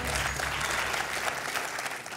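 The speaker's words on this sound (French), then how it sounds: "Et applaudi par François" Studio audience applause on the French quiz show Questions pour un Champion, dense steady clapping from a crowd that carries on throughout and thins slightly toward the end.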